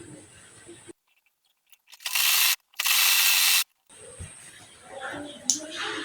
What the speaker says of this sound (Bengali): আমি এবার এটা এইভাবে সেলাই দিয়ে নেব।